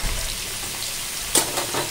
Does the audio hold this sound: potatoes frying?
yes